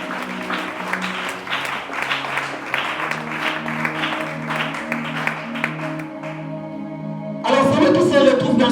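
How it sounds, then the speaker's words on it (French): A church congregation applauding and cheering for the Lord, rapid dense clapping with raised voices and sustained tones, swelling louder and brighter in the last second. "Est-ce que nous pouvons acclamer pour le Seigneur?"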